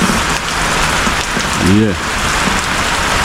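Heavy rain drums steadily on zinc roofing at a village homestead, a dense continuous patter that fills the whole stretch, with a brief spoken word and a short voiced sound breaking through midway.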